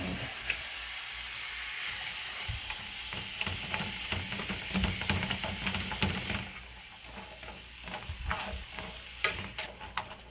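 Onions and other enchilada ingredients sizzle and fry in a pan, with steady stirring and scraping clatter throughout, fairly close and moderately loud, no talking.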